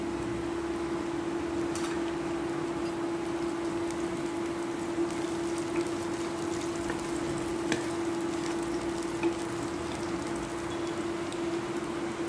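Chopped green chillies crackle and sizzle in hot oil in a pan, a faint steady frying hiss with scattered small pops over a constant low hum.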